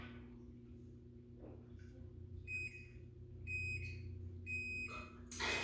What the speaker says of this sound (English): Just ignore the timer.